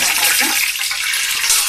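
Sliced onion frying in hot oil and ghee for chicken biryani, a loud, steady hiss of sizzling that fills the whole moment without pause.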